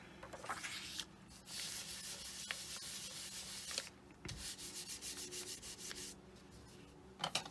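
Fingers rubbing over a polymer clay faux tortoise-shell pendant to smooth it, a close, soft dry scuffing in repeated strokes with short pauses, alone without talk.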